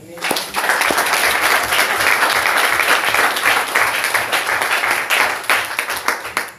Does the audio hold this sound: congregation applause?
yes